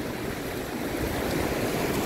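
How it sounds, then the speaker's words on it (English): Rough ocean surf rolls onto the black sand beach at Senegambia in Kololi, The Gambia, a dense continuous wash of breaking waves mixed with wind noise on the microphone. "right now, when you're looking at the ocean wave, the wave is rough"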